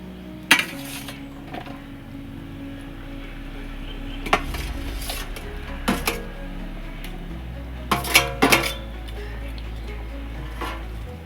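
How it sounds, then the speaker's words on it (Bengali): Prawns go into a pan of cooking jackfruit curry amid a few sharp metallic clanks of a utensil against the pan, spaced out over a low kitchen hum, with a soft sizzle underneath. "চিংড়ি মাছগুলো দিয়ে দিচ্ছি"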